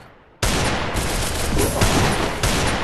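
Dense, sustained burst of gunfire from the Free Fire video game, loud and continuous after a sudden start, like a rapid fusillade with no clear gaps between shots.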